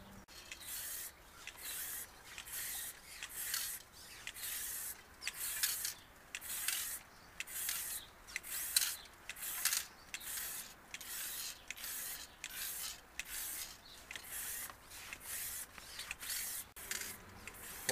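Spray paint can hissing camo paint onto an airsoft gun in repeated short bursts, a steady rhythm of close, sharp sprays with brief pauses between them.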